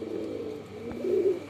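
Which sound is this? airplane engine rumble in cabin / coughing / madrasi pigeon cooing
madrasi pigeon cooing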